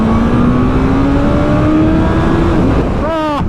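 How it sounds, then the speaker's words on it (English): A 2022 Suzuki Hayabusa at full throttle in second gear, loud close engine tone rising steadily in pitch with a quick shift-like dip near the end, wind roar throughout. "should we go full throttle in second gear, just do a cheeky overtake from 30 miles an hour?"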